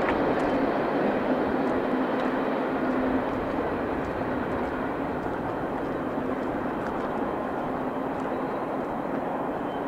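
A steady, loud rumble of a CSX freight train rolling past continuously, with no voices.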